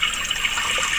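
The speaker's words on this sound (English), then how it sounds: "I'm just going to pour some into this" Regular beef broth pours into a giant pot in a home kitchen, a steady, splashing stream of liquid that runs unbroken and fairly close.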